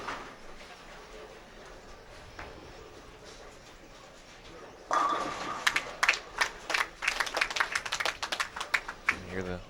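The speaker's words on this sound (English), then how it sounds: "You hear the applause in the background" Fans at a women's professional bowling championship break into scattered applause and clapping partway through, rising suddenly after a quieter stretch of arena murmur and then continuing in uneven bursts.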